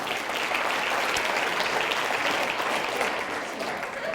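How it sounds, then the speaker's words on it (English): An orthodontist study group audience applauds themselves at a talk, a steady wash of many hands clapping, moderately loud and even from start to finish, with no voices over it. "Give yourselves a round of applause for that"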